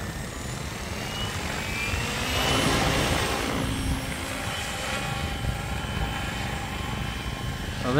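A Nimbus 550 RC helicopter flies at 1900 RPM, its steady rotor and motor whine holding at a constant loud level for the whole stretch with a brief swell near the middle.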